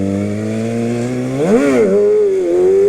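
Dirt bike engine in second gear, a loud close steady drone that rises sharply in a quick throttle blip, dips, then settles back to a higher steady pitch.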